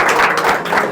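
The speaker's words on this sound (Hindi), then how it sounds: "खुदावंद के जलाल के लिए जोर से तालियां बजाएंगे" Loud, dense clapping from the audience at a Christian Eid special show, a continuous wash of hands close by with no break.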